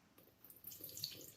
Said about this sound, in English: So I'm just gonna tip some water in there.